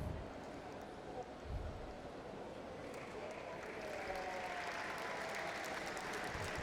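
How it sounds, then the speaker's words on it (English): Spectators at a professional squash match clap in a steady spread of applause around the court, moderately loud and continuous throughout. "clap from the spectators"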